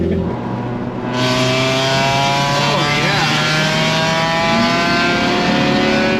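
A cold amateur endurance race car with no plate, taken out on a street, revs loudly and close, its engine note holding and climbing in a continuous roar.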